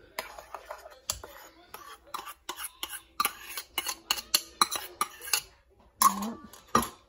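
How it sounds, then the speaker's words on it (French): Bread dough ingredients with baker's yeast are mixed in a bowl, a utensil clinking and scraping against the sides in quick, irregular taps and strokes, close and clear, with a quiet voice speaking at moments. "Je vais mettre de la levure boulanger. Bien mélanger comme ça."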